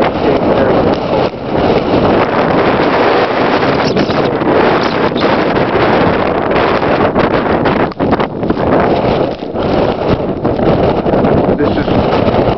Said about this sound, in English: the wind just is getting stronger with every passing minute